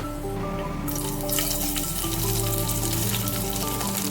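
Onions sizzling as they hit hot mustard oil in a wok, a loud, dense, continuous frying hiss that swells once the onions go in.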